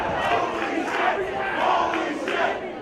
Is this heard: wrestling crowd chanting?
yes